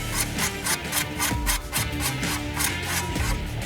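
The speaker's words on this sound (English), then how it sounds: "Scrape this water off here." Rhythmic scraping strokes, about eight or nine, as a scraper pushes water off a wet flat-top griddle at close range, evenly paced with no talking.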